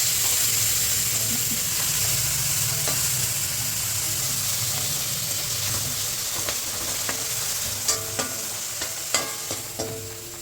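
Tomatoes frying in a pan for green chicken gravy, a loud, steady close sizzle throughout, with a few sharp clicks of stirring toward the end and no talk.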